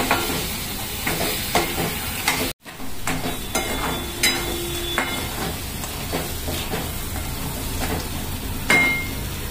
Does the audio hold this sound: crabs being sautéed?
yes